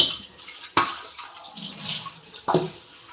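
Water splashes and runs into a basin, with a couple of sharp knocks and a steady rushing stream nearby, no voices.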